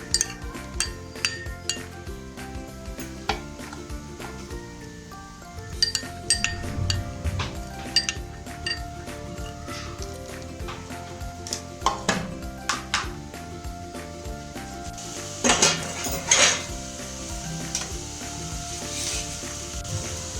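Red chili powder stirred into a sweet laddu pithi chutney with a spoon, close metallic clinks and scrapes against the pot over a light sizzle, with a few sharper knocks, no talking.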